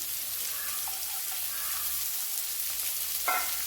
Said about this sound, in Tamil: வெங்காயம் நல்லா வதங்கிடுச்சு இப்போ நம்ம கட் பண்ணி வச்சுருக்கிற பீட்ரூட்டை சேர்த்துடலாம்